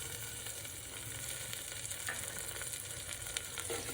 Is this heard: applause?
no